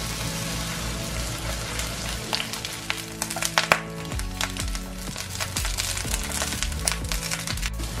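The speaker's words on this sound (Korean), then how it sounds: "이제 가지 넣고 중센불에서 양면 노릇노릇하게 구워주세요" Slices of eggplant pan-fry in oil over medium-high heat, sizzling and crackling steadily up close with scattered pops and a few clatters of a utensil against the pan, and no talking.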